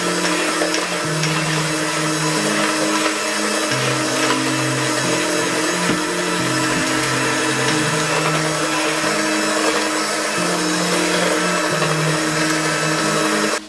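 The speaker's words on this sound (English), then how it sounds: "or you can just use your hand blender." Hand blender mixing cupcake batter in a bowl, a loud steady electric whir running continuously with slight shifts in pitch as the load changes, stopping abruptly at the end.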